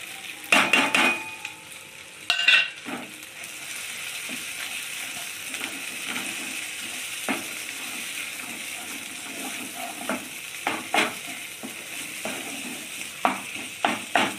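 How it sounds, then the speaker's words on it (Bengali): Spices with ginger and Kashmiri chili powder frying in oil for a prawn malai curry, giving a continuous sizzle broken by sharp spatula scrapes and clinks against the pan. "মশলাটা একটু ভেজে নেব"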